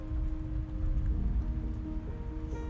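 Steady rain falling on a surface, a dense, even hiss with low rumble underneath, unbroken for a few seconds.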